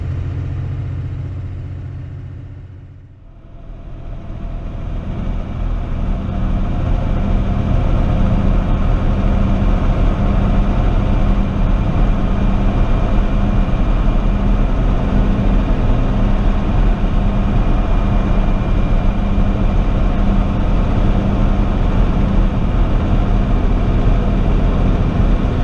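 Ford Excursion Super Duty cruising around a curve, a steady loud low engine and road drone heard from inside the cabin, briefly dipping before settling into a constant rumble with no talking.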